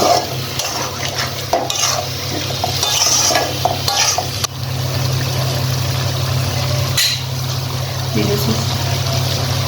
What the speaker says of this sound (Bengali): এখন এই সব মশলা ভালোভাবে মিশিয়ে কষিয়ে নেব